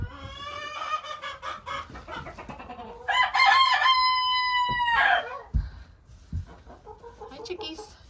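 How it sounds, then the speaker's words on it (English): Chickens in an active coop on a rural Vermont property, including a rooster crowing loudly and hens clucking close by in a lively, overlapping chorus. "Oh, we're gonna hear some chickens."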